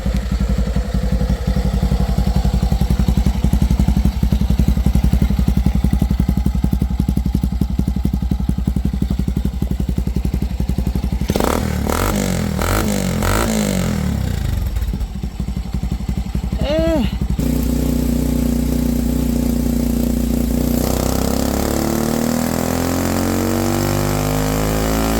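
Pitbike engine fitted with a homemade oil-filter muffler runs close and steady at idle, then revs up and drops back, a chattering mid-pitched exhaust note that continues alone for the whole stretch.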